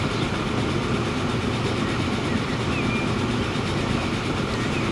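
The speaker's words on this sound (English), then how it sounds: "I got this farm train rolling." A farm train rolls steadily along the rails in the Transport Fever video game, with a continuous rumble and a faint clickety-clack that holds an even pace throughout.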